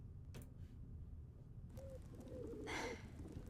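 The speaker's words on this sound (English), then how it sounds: "Pigeons." Pigeons coo softly in the animated series Invincible, with low, gentle calls rising near the end over a murky background hum.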